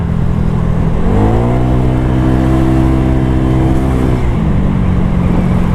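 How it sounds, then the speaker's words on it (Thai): A Honda Giorno+ 125 scooter fitted with an aftermarket exhaust accelerates steadily, its engine note rising through a smooth run of revs and settling briefly, loud and close with wind rush, no talking. "เนี่ยเร่งมาเร่งมา"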